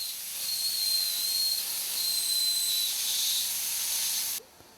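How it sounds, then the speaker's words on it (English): A hot air welder joins a plastic strip over a pontoon seam on a racing rubber duck, giving a steady, close, continuous hiss with a thin high whistle that wavers, then cuts off abruptly near the end. "A strip of plastic is welded over the joint to give it extra strength and to make it look neat"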